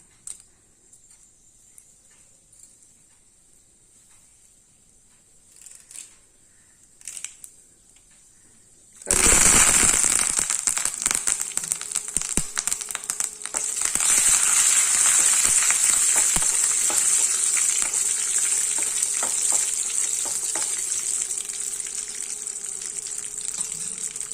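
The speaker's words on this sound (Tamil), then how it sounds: "ஒரு சின்ன கடாயை போட்டு எண்ணெய் ஊற்றி கடுகு போட்டிருக்கேன்" Mustard seeds and dried red chillies spluttering in hot oil in a small kadai for a sambar tempering. After a quiet start, a sudden loud crackling sizzle bursts in and keeps hissing steadily to the end.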